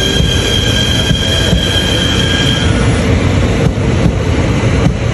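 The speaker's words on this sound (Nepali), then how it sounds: "यो चाहिँ योङसन जाने ट्रेन चल्यो है साथीहरू" A train bound for Yongsan in Korea runs past close by, giving a loud, continuous rail rumble with high wheel squeal and no talking.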